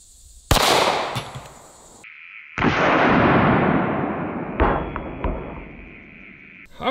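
A 5.7 caliber pistol fires at a bowling pin outdoors: one loud, sharp report, then a long rolling echo that fades over several seconds, with a couple of fainter cracks or thuds near the end.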